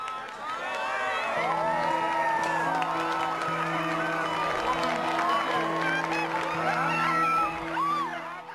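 Wedding guests in the Mamma Mia film scene cheer, whoop and clap as a festive crowd over sustained background music, loud and continuous throughout.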